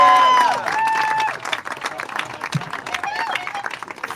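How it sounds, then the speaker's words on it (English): A crowd applauds and cheers the rowing team GREENS2BLUE at the finish of an Atlantic ocean rowing race, with sustained clapping outdoors and some voices mixed in, starting louder and settling into steady applause. "But first, once more, a big applause for GREENS2BLUE!"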